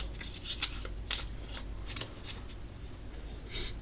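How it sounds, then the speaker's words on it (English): A deck of playing cards shuffled by hand for a tabletop card game, a series of crisp riffling bursts repeating at an uneven pace, close and fairly quiet, with no voices. "We shuffle our cards."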